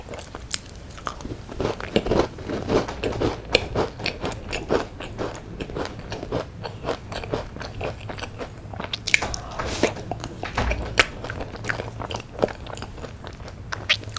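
A salty cheddar cheese cookie is eaten close to the mic, with a steady run of crisp bites and crunchy chewing.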